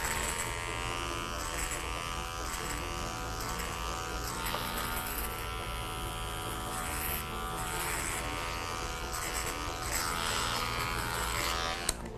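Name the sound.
electric hair clippers cutting hair into a mohawk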